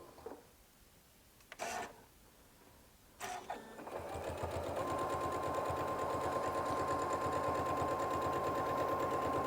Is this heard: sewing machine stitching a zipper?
yes